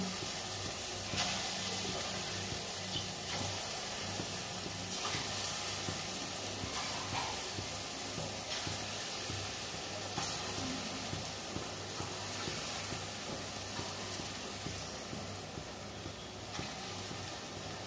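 Biuli dal fritters (phuluri) sizzle steadily in hot oil, a dense, constant crackling hiss with small pops and spatters throughout, fairly close and with no talking.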